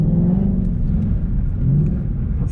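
A 2015 Mustang GT engine revs hard in automatic while doing donuts, a loud continuous low roar with rising and falling pitch sweeps, close by and alone.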